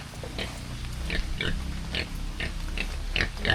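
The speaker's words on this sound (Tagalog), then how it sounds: "Nakaban na yung baboy nila." A pig grunts and oinks in repeated short bursts at close range, with a rumble of background noise underneath and no talking.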